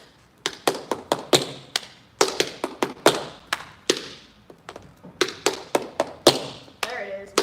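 Tap shoes striking a studio floor in a tap basics class, crisp rhythmic clusters of taps and heel drops in quick phrases with brief pauses, close and clear with no talking.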